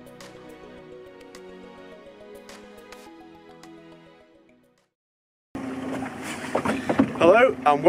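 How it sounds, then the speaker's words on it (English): A 15-foot Vimar 465 boat slides off its trailer into the water at a beach, a rushing, splashing wash of water and wind noise that swells loudly after a quiet pause, following a stretch of calmer sound. "The ease with which this boat launches is a huge luxury"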